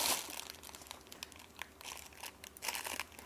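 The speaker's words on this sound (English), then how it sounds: "Excuse the rustling." Crinkly rustling of packaging around yarn balls during a crochet livestream, a run of soft crackling crumples and crunches at close range, fairly quiet and uneven, with no talk over it.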